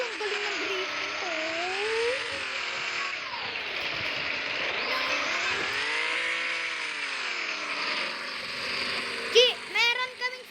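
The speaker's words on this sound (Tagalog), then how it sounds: "Ang galing ng drifting ko." A car in a Roblox game drifts, its engine tone swooping up and down in long wavering sweeps with a sustained squeal over it, and a few brief voice sounds near the end.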